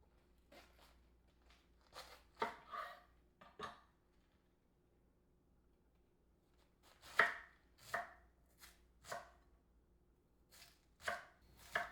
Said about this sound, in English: Chop it roughly like so.